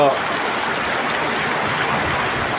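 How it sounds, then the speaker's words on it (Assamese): Heavy rain pours during a windy storm in Hatigaon, Guwahati, as a dense, continuous rushing hiss that stays loud and even from start to finish. "একদম ধাৰাসাৰ বৰষুণ পৰি আছে"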